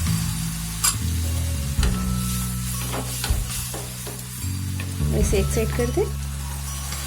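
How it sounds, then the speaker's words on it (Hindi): Chana pakoda batter in hot oil, Bihari-style bhabhra, gives a continuous close sizzle and bubbling with a few scrapes and taps of the spatula, while someone talks over it. "पलट दें इसे और मीडियम फ्लेम पे इसे फ्राई कर लेंगे।"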